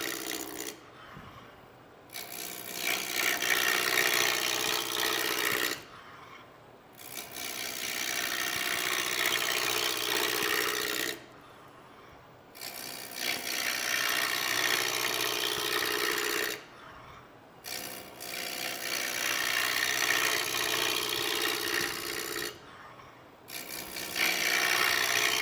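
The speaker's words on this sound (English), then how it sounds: "a roughing gouge sure is nicer to round something than a bowl gouge" A roughing gouge rounds a wooden vase blank on a lathe, giving a steady abrasive scraping rasp in long passes of about four seconds, each broken by a short quiet gap as the tool lifts off, close and loud.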